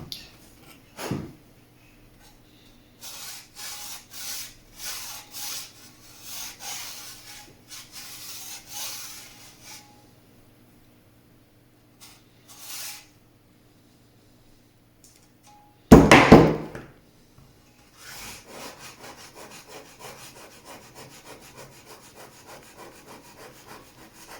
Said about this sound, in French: le plâtre frais, il se coupe assez facilement en général